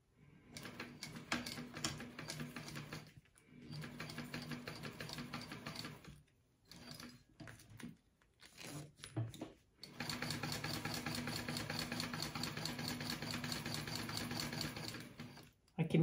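A home sewing machine stitches a ladies' wallet in bursts of rapid mechanical chatter, separated by short pauses, close and clear with no talking.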